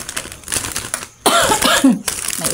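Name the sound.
cough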